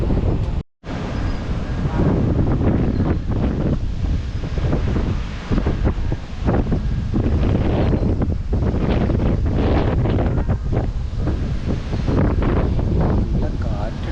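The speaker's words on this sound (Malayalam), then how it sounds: "നല്ല കാറ്റുണ്ട്." Strong wind buffets the microphone at an outdoor GO Train station platform in Milton, a loud, gusty roar that rises and falls almost nonstop, dropping out only briefly near the start, with a voice faintly heard beneath it.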